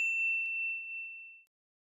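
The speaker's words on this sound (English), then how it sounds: "ring the bell to be notified about our latest videos" A single bright notification bell ding rings out cleanly and alone, then fades away over about a second and a half into silence.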